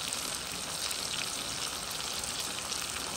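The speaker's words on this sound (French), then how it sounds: "les oignons sont en train de rôtir avec ces jolies saucisses" Onions roasting alongside sausages in a pan, giving a dense, even crackling sizzle that stays constant and fairly quiet throughout, with no other sounds.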